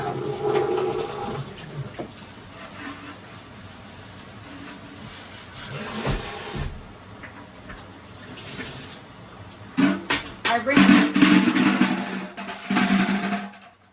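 Water running from a tap over stainless steel milking machine equipment as it is rinsed, a steady splashing wash that grows louder and more broken toward the end, with no talking.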